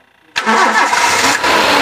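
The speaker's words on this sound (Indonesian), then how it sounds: "kita sekarang tinggal dengerin suara mesinnya, sambil nyetater" A 2001 Suzuki Carry Futura Realvan engine cranks and catches, then runs loud and steady close by, with a brief dip before settling into a rough idle.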